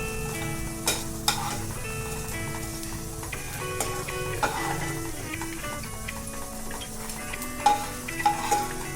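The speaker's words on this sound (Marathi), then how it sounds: "बारीक गॅसवरती छान आपला डिंक आपण असा या पद्धतीनं तळून घेणार आहे." Edible gum (dink) frying on a low flame produces a continuous sizzle with scattered clinks and scrapes from stirring, set against a steady tonal background.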